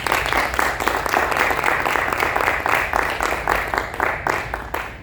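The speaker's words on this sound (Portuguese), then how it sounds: "salve de palmas para o público da cidade de Niterói" Sustained applause from a seminar audience in Niterói, dense steady clapping throughout with a few brighter individual claps standing out, no speech over it.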